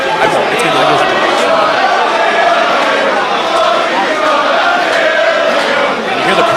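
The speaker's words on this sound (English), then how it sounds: "you hear the crowd now with that chant" Crowd noise at an inter-species wrestling show, a dense, steady roar of many voices that holds loud and close throughout, with a rhythmic chant running through the wash of cheering.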